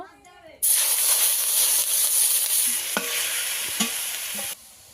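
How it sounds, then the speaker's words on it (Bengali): Prawns dropped into a very hot kadai of oil for a Bengali prawn dish burst into a loud, steady sizzle that holds for about four seconds, with a few spoon clinks, then drops away to a faint hiss. "কড়া গরম হয়ে গেছে, ফুল চিংড়িটা দিয়ে দেব"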